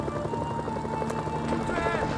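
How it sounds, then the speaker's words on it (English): Helicopter rotor drone from a Mercenaries video game, a steady low throbbing hum with tonal bands, flying continuously under faint in-game voices. "Oh shit, don't crash my helicopter."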